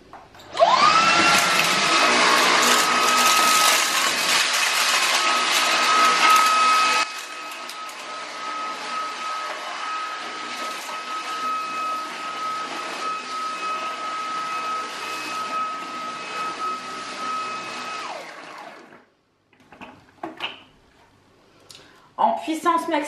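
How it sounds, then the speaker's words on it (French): A Roborock H7 cordless stick vacuum runs at maximum power, a loud whooshing motor roar with a steady high whine that drops to a quieter hum partway through, then cuts out near the end, leaving brief clatters. "En puissance maximum, on voit que ça ne le fait pas. Tout a bien été aspiré jusqu'à son contenant."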